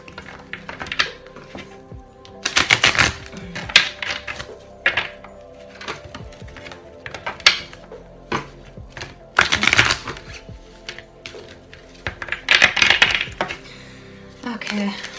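Oracle cards from a Wisdom of the Oracle deck being handled and shuffled for a tarot-style reading, giving close, irregular papery slaps and riffling bursts with soft clicks between them and no talk.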